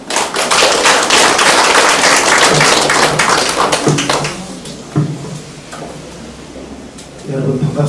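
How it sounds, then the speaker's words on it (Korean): An audience at a Korean election campaign office opening ceremony gives a burst of warm applause, dense clapping that gradually thins and fades, with voices murmuring beneath and a few scattered claps near the end. "따뜻한 박수로 환영해 주시죠."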